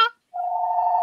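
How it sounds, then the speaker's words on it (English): A telephone rings with a single steady electronic tone that begins after a short burst of voice and holds clearly until the end. "Phone."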